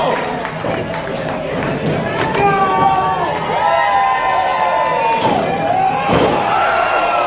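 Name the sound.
wrestling crowd cheering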